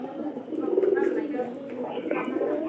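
Pigeons coo in low, soft repeated calls around a loft where new pigeon houses are being built and netting fixed, heard under ongoing speech.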